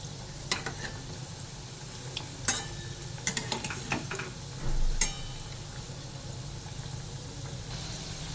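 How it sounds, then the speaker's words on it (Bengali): Prawn and banana flower chops fry in refined oil, giving a low, constant sizzle with scattered clinks and scrapes of a utensil on the pan and one brief thud. No one speaks. "একদিক ভাজা হয়ে গেলে আস্তে করে উল্টে দেবো"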